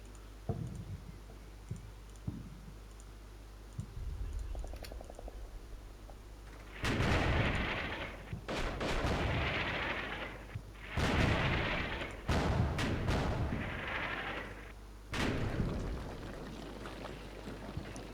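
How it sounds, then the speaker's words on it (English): Mortar artillery fire in the Combat Mission: Shock Force 2 video game: a quiet stretch gives way to several heavy booming blasts and rumbling impacts at irregular intervals, fairly loud with no talk over them. "The enemy's hopefully pinned by these mortars right now."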